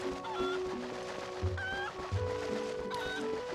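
Cucco chickens from the video game Zelda: Twilight Princess give several short, nasal clucks and squawks in bursts over a steady bed of game music and ambience, fairly close and moderately loud.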